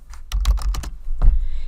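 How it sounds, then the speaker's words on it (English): Rapid typing on a computer keyboard while entering text into a spreadsheet cell, a quick run of close, crisp key clicks that pauses briefly and then resumes, with no talking. "Watch when I start typing."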